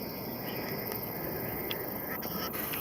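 A wild bird calling outdoors at sunset, a few faint, brief chirps and a short cluster of calls over a loud, steady wash of wind or background hiss.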